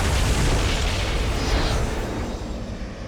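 A deep, rumbling explosion of a pyramid imploding roars out and slowly fades, heavy low-end boom with debris-like crackle trailing off.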